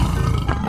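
Short, loud growling roar from a cartoon tiger, dense and rumbling, filling the whole brief moment under a busy soundtrack.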